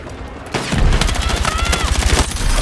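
Rapid assault rifle fire in a Battlefield 6 trench fight, a loud, dense stream of close shots after a quieter half-second lead-in, with faint ringing tones under the bursts.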